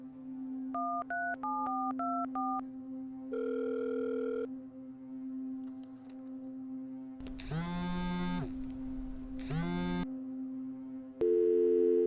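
Telephone tones: a quick series of dialing beeps, a steady tone, then repeated ringback or busy pulses over a constant low hum, with no talking.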